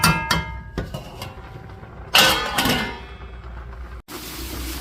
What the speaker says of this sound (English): I'm gonna cover this pot back.